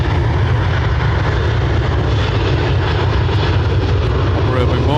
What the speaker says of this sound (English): Ryanair off to Luton